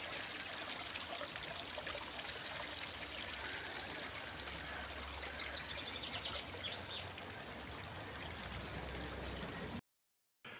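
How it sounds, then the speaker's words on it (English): The River Derwent near Baslow in the Peak District flows and trickles steadily, a close, continuous watery rush with faint birdsong, ending abruptly in a brief silence. "This is the River Derwent."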